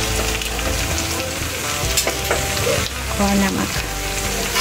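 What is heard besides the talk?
spices frying in a pan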